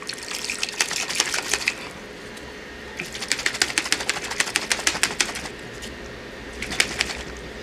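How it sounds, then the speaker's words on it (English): Drink mix and water slosh and rattle inside a tightly lidded plastic cup during a few rounds of vigorous rhythmic shaking, close and fairly loud, with brief pauses between bursts. "I'm going to shake this, and hopefully I'm not going to spill water everywhere."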